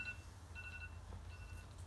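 Mobile phone giving a few faint, repeated electronic beeps over a steady low hum, distant-sounding and without any talk.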